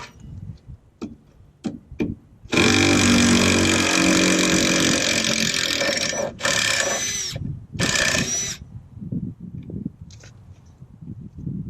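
Power tool driving lag bolts into wood while unloading equipment, with scattered knocks and clicks, then a loud continuous whirring burst of about four seconds, two shorter bursts, and more scattered handling noises.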